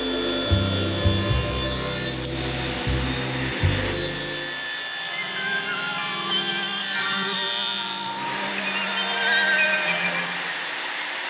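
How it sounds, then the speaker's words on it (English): A table saw on a 10-inch sled cuts wood at 42-degree angles, a loud steady whine with rough cutting bursts and low thumps early on, then a continuing high buzz. "I clamped my piece to a 10-inch sled and slowly made the cuts."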